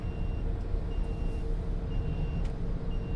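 A truck reverses through congested traffic in Calauag, Quezon Province, its beeper sounding in a steady repeating tone over a constant low engine rumble and road noise.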